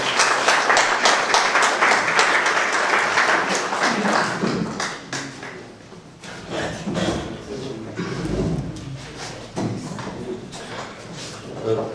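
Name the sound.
audience applause for a literary award winner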